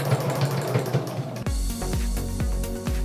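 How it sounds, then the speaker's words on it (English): A sewing machine stitches elastic onto a homemade face mask, running in quick rhythmic bursts with a steady mechanical hum close to the microphone, then shifting to heavier, evenly spaced thumps. "And here where there's elastic, you may wanna go back, sew it again. Extra stitching."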